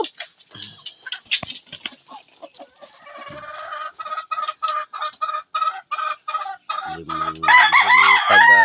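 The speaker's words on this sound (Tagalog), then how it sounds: "Limang Tagalog, limang inahin na Tagalog, saka isang tandang, isang maliit." Hens on a small farm cluck in quick, rhythmic bursts close by, with a rooster crowing loudly at the end.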